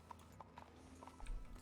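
Horse hooves clip-clop at an easy walking pace in the Western roleplay game RedM, a faint, evenly spaced series of soft knocks over a low background hum.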